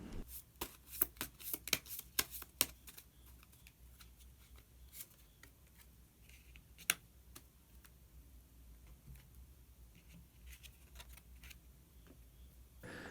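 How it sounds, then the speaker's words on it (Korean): Tarot cards handled and drawn from a deck, with a quick cluster of crisp card snaps and clicks early on, then softer occasional shuffling taps over a quiet room. "그러면 마지막으로 마법사 카드 한 장 더 뽑아보도록 하겠습니다."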